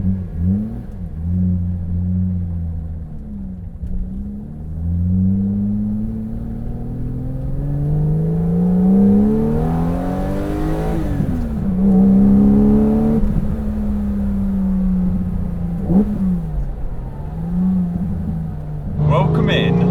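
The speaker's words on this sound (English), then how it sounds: "right now let's go for a short drive and just enjoy it" Swiss-built Porsche 911 restomod on a road drive, its engine droning steadily from inside the cabin with repeated rises and falls in pitch as it revs through gears, loud and continuous throughout.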